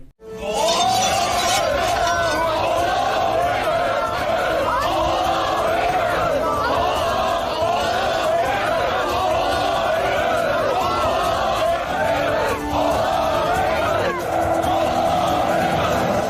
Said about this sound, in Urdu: پھر سب اللہ اکبر کے نعرے لگانے لگتے ہیں۔